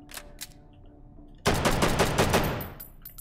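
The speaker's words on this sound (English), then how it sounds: "Let me take the suppressor off on this. This thing sounds like a beast." Loud unsuppressed automatic gunfire from a rifle in a VR shooter game, a dense burst of rapid shots bursting in after a quiet start and tailing off at the end.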